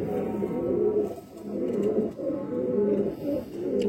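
Pure patti pigeons cooing in a loft, a steady run of low, throaty coos that repeat in rolling waves, close and fairly loud with no voices over them.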